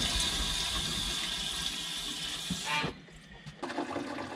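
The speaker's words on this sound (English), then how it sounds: "And you're going to go ahead and flush that." An RV toilet flushes water down into the black water holding tank, a steady close rush of gushing water for almost three seconds that then cuts off, followed by faint dripping and trickling.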